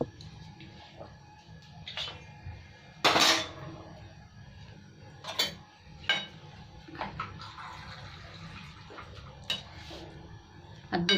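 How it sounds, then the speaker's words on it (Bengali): Pieces of rui fish are lifted out of a pot of Bengali-style fish curry, with scattered clinks and scrapes of a utensil against the pot and one sharper clatter, over a low kitchen hum. "এবার আমি মাছগুলো সব উঠিয়ে দিচ্ছি।"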